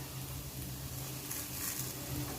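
A homemade snack sizzling in hot oil in a pan as pieces are flipped, a steady soft crackle and hiss with faint stirring scrapes, no talking.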